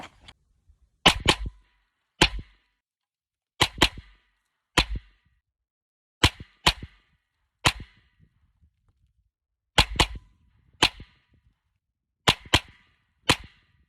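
Rapid double-tap gunshots from a 9mm carbine on an outdoor range, sharp loud cracks arriving in closely spaced pairs with short pauses between each pair, repeated about eight times with no talking.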